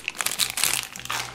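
LOL Surprise Boys doll being unwrapped from its crinkly foil wrapper, giving a close, busy run of rustling and crackling crinkles across a second and a half, with no talking.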